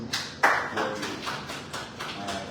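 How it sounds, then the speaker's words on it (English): Sparse applause from a small audience at a civic talk on school closures, a few hands clapping in uneven bursts, fairly close and moderately loud. "Let's give a round of applause."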